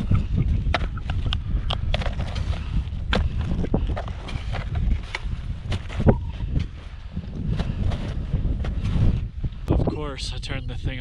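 Wind gusting and buffeting the microphone on a snowy winter mountain trail in Colorado, with a rough, rumbling roar throughout.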